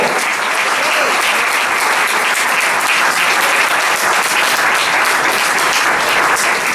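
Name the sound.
congregation applause at church sermon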